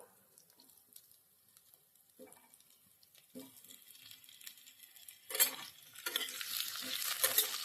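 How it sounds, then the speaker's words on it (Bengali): Potatoes frying in a pan at medium flame for Bengali shukto, a quiet sizzle with light stirring and scraping that grows louder and busier toward the end. "এটাকে এক মিনিট ভেজে নিচ্ছি গ্যাসের ফ্লেমটা মিডিয়ামে রেখে"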